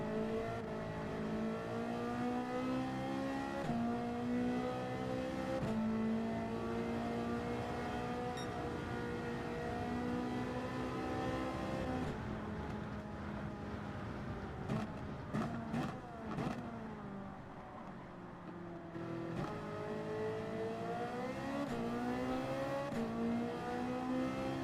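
High-revving Ferrari 458 V8 racing in Gran Turismo 7, loud and continuous with rising and falling gear sweeps, brief shift breaks and quieter lifts, no talk.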